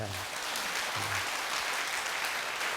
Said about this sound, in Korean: 자, 우리 같이 박수 한번 치십시다.